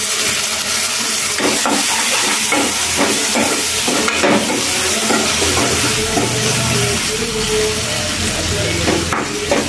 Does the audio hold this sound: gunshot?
no